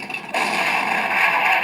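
A toy Justice League Batmobile fires its guns in a loud, continuous electronic rattling blast that starts abruptly and holds steady, close and without talk.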